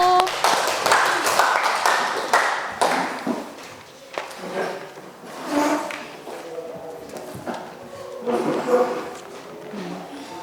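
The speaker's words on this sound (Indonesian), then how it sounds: "Kasih dulu tepuk untuk temannya yang udah maju." A classroom of people claps in scattered, uneven bursts, with voices and chatter mixed in and the clapping thinning out toward the end.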